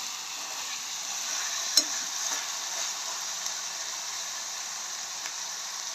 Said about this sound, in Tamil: வெங்காயம் வந்து அந்த வதங்கி தன்மையாக வரணும்.